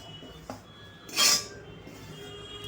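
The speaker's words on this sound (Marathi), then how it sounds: "आता आपण ती एका प्लेटमध्ये" A spoonful of khirapat, a Ganesh festival sweet, goes onto a plate: a light tap of utensil on dish, then a bright metallic clink and scrape, close and brief over a quiet room.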